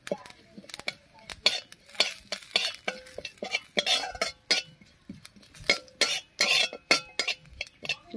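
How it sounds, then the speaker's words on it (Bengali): Whole cumin seeds fry in a little mustard oil in a wok, giving quick, irregular crackles and pops mixed with light metallic clinks and stirring, close up and fairly quiet. "কড়াইয়ে সামান্য একটুখানি সরষের তেল দিয়ে 1 চামচ মতো গোটা জিরা ভেজে নামিয়ে নিচ্ছি।"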